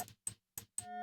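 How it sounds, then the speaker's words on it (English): Synthesized bell-like tones sounding in four short separate strikes, the last one ringing out with a sustained, slowly wavering pitch; quiet and close, with no voices. "is the sound of a bell"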